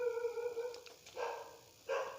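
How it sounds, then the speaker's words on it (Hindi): Street dogs bark in the background outdoors, a few short, tonal barks and yips spaced apart at moderate distance. "अभी जो पीछे हो रहा है, कुत्ता सब भौंक रहा है,"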